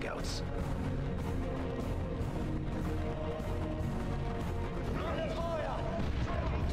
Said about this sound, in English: I wish the fucking explosion was bigger